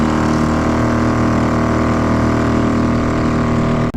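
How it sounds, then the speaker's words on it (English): A small outboard motor on a fishing kayak drones steadily at close range, a constant mid-pitched hum that cuts out abruptly at the very end. "I'm gonna turn the engine off because I don't need it"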